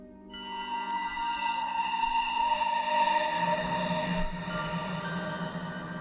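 A Csound synthesizer tone with bright, stacked harmonics sustains for several seconds, its pitch shifting as a hand moves, then the timbre drops into a lower, rougher register.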